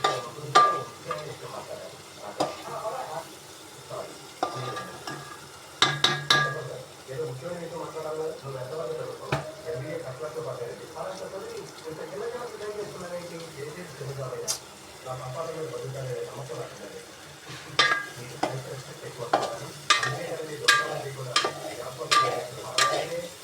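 Tomato masala frying and being stirred in a pan, a soft steady sizzle with scraping and clinks of the spoon, while someone talks over it.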